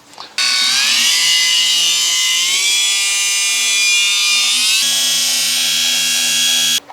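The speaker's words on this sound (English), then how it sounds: "This is the small Kraus nano battery polisher, the Eco 7." A small Kraus nano Eco 7 cordless battery polisher fitted with a wool pad and Menzerna 300 compound runs as a steady, loud high-pitched whine, starting abruptly, holding pitch with a slight dip midway and cutting off near the end.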